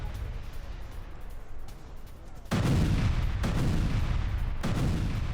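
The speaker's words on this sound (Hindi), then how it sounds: "कार पार्किंग के पास हुआ भीषण धमाका" A powerful explosion from a drone attack near a car park in a residential area, a sudden loud, broad roar that cuts in midway over rumbling background noise and stays heavy and sustained.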